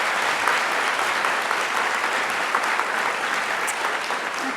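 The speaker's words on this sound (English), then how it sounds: "Can we have a round of applause for our..." Sustained applause from an audience honouring returning alumni at a campus event, steady and fairly loud throughout with no break.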